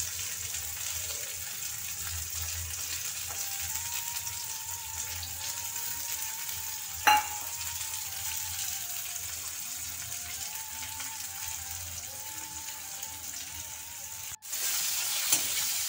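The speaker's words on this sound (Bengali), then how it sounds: "এইভাবে সব কিছুকে ভেজে দিতে হবে ফ্লেমটা লো টু মিডিয়াম রাখবো" Vegetables for egg chowmein fry in a pan over low-to-medium flame, a steady continuous sizzle with a faint stirring scrape, one sharp clack near the middle and a brief drop just before the end.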